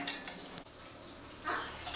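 Cashew nuts fry in a pan while a utensil stirs and scrapes against the metal, with soft clinks and a faint sizzle, close and quiet.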